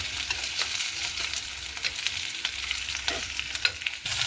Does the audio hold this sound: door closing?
no